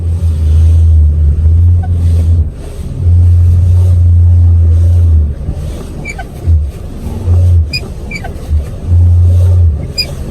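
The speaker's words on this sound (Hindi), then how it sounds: "आपके स्टीयरिंग में से आवाज़ आती है, बिल्कुल माइनर सी नॉइज़ आती है।" A car's steering gives off a minor noise: a loud, low droning groan that comes in several long bursts with short pauses between them, with a few faint clicks later on and no one talking.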